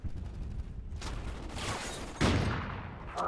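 Sniper rifle shots in Call of Duty: Ghosts, a few sharp cracks with rolling echoes, the loudest near the end, over continuous game background noise.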